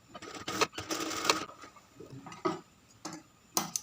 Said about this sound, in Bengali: এই পাশটা সেলাই করে এতটুকু আটকে নিলাম